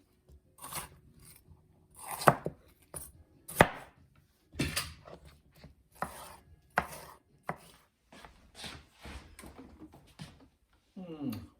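A knife chops bell peppers into bite-sized chunks on a board, making irregular crisp cuts and thuds in short bursts with pauses between them.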